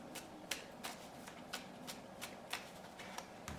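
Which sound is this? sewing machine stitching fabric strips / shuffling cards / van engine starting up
shuffling cards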